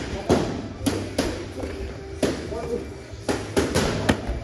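Gloved punches land during a boxing sparring session, a series of close, dull thuds in uneven rhythm, several landing in quick clusters, with voices talking around them.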